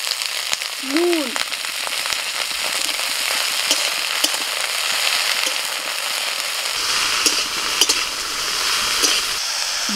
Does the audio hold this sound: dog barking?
no